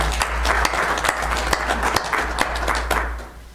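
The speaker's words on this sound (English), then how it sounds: "if you'd join me in giving Ricky a round of applause" A room full of people at a county commission meeting breaks into applause, the clapping moderately loud and continuous with a steady low hum underneath, then thinning out toward the end.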